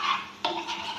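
Ghee is stirred slowly in a pot, a soft scraping swirl with one clearer scrape of the utensil partway through, close and fairly quiet.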